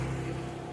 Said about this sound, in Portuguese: motos passando, carros passando